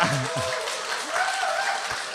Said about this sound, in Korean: 다 같이 온 마음을 다해 박수를 보내드리겠습니다